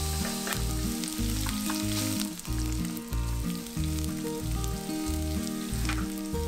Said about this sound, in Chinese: 烧热个镬，少少油，先将洋葱爆香。